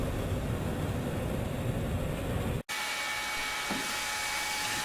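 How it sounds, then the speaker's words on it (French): A heat gun blowing hot air to dry fresh gray paint on industrial furniture gives a loud, steady rushing whoosh. It cuts off for an instant partway through and then resumes with a slightly different tone. "on va commencer le séchage au décapeur thermique"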